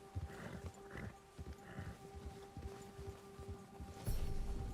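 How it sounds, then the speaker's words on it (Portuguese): A horse in Red Dead Redemption 2 clops its hooves in a soft, uneven rhythm, then rears with a sudden louder burst at the end; faint and close overall. "Você desbloqueou empinar com o cavalo"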